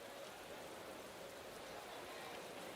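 Steady rain hiss in the racing management game Motorsport Manager, a soft, even wash of noise heard at low level throughout with no distinct drops standing out.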